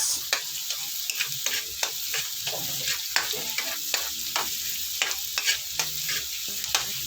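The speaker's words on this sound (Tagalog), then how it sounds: "ginigisa ko na po yung bawang lang at saka andyan na rin po yung mga paminta" Garlic, peppercorns and onion sauté in a hot pan, a constant close sizzle punctuated by frequent sharp scrapes and taps of a spatula stirring, with no talking.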